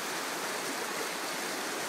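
A creek swollen high after heavy rain rushes past in a steady, dense hiss of turbulent flowing water, close and continuous with no other sounds.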